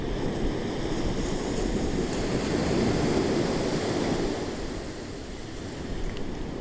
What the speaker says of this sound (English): You can hear the ocean gently turning over as the waves roll in and out.